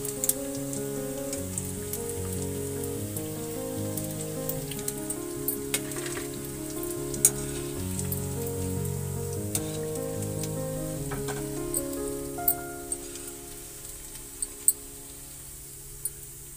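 Soya chaap half-fried and browning in hot oil, its layers opening, crackles and sizzles steadily with scattered sharp pops over a quiet musical backdrop.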